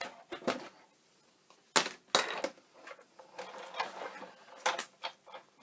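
A Big Shot die-cutting machine embossing a card, irregular mechanical clunks, cranking rasps and plate handling noises in short bursts with quiet gaps.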